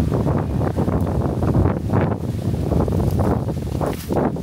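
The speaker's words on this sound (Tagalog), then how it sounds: "Grabe ang hangin, oh." Strong wind blasts across an open rural spot in the Philippines, roaring and gusting steadily with loud microphone buffeting throughout, no voices over it.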